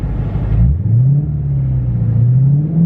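Dodge Challenger Hellcat widebody pulling hard in first gear, a loud, close engine roar that drops briefly at a shift point, then holds a steady, deep, rising drone to the end.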